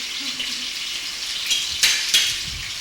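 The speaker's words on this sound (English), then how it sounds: "You can hear the onions sizzling." Onions for beef jollof rice sizzle and crackle in a hot pan, a steady hiss with a few sharper pops near the end.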